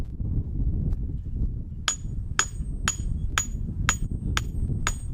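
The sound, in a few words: hammer tapping sledgehammer head onto handle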